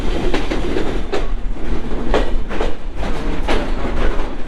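An express train in Bangladesh pulls into a station, heard from on board as a loud, close, rhythmic clickety-clack of wheels over rail joints above a constant rumble.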